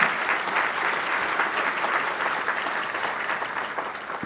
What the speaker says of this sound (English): Let's give our board of directors a round of applause